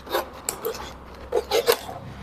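A sharp knife saws and scrapes through a plastic bottle in short rasping strokes, close up, with a few louder bursts near the end and no talking.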